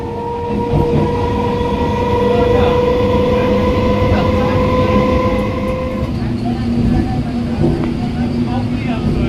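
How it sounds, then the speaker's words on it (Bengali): A Goghat local train slowly enters Serampore station, a loud steady rumble of wagons with a sustained horn-like tone that fades midway, and rail clatter continuing up close. "ট্রেন আস্তে আস্তে ঢুকছে শ্রীরামপুর ক্রস করলো প্রথম রেল গেটটা"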